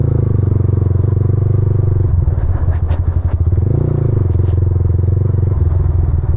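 A motorcycle engine runs steadily with a deep harmonic drone, loud and close, with scattered clattering and ticking mechanical noises in the middle of the ride.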